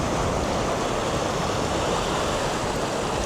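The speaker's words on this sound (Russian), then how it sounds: "Вот все волны, которые сюда доходят, они, видите, такие аккуратные." Ocean waves wash onto a beach in Tangalle, Sri Lanka, a continuous loud surf roar with no distinct individual breaks and no talk.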